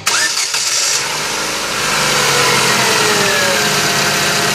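A 2011 Chevrolet Aveo engine with a suspected camshaft sensor fault cranks briefly and catches, then settles into a loud, steady idle close to the microphone.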